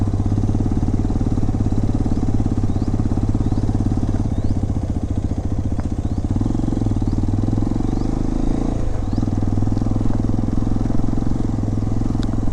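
A Hero Xpulse 210 motorcycle idling nearby, a steady loud engine rumble with a slight change in tone partway through, no talking.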